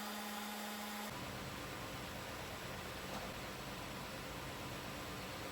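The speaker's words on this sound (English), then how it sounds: "I sand the walnut board with 100 grit, 150 grit," Sandpaper worked over a walnut board gives a continuous broadband hiss, steady and fairly faint throughout, as if from a powered sander, close by with no talking.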